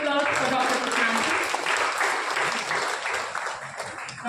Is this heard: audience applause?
yes